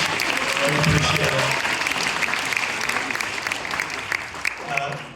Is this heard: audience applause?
yes